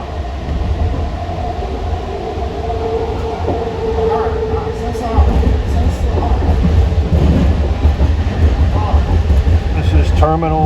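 The JFK AirTrain people mover rides its loop around the airport terminals, a steady rumbling hum of the car on its guideway that swells louder partway through, with a brief chiming or squealing sound near the end.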